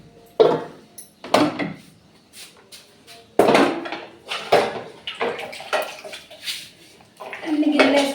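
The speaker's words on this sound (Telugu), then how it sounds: "అన్ని గిన్నెలు వేసుకోవాలి దీంట్లో." Pots and dishes from a morning meal of idli and sambar clatter and knock as they are gathered into a washing tub, a series of sharp clanks and water-splashed bumps close by, with bursts of noise through the stretch.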